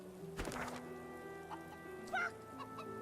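Chickens cluck and squawk in the fantasy role-playing game Divinity: Original Sin, a few short bursts of fowl calls over a steady game ambience and background music.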